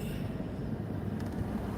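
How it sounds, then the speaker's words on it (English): A train rolls past at night in Los Angeles during a curfew, a steady close rumble of wheels and cars with a brief squeal near the end. "here's the train"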